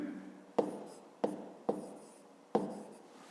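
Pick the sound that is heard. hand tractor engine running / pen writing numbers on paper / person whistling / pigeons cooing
pen writing numbers on paper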